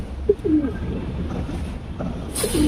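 Khaki dom pigeons coo in a few soft, low rolling calls near the start and again at the end, close by over faint background hum.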